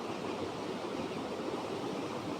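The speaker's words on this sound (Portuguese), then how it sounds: "vendo essa cachoeira aqui" Waterfall with a steady, dense rush of falling water, broadband and unbroken, heard from a moderate distance with no voices over it.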